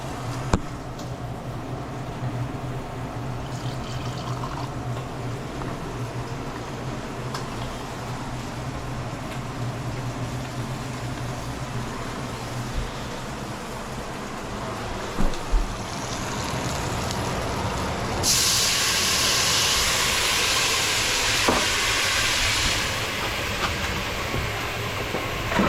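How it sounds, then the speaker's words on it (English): Liquid sizzles and hisses hard in a hot pot while deglazing for red wine braised beef, a steady broadband rush that swells louder for the final stretch, with a couple of sharp clinks partway through. "I like to do a quick deglaze."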